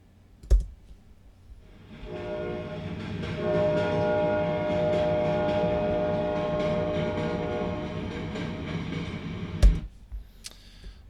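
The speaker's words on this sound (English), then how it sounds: "We introduce a train, and we hear the train before we see it" A train approaches and rolls past, a steady rumbling roar with metallic wheel and rail tones that builds over a couple of seconds, holds loud, then fades, bracketed by sharp clunks near the start and end.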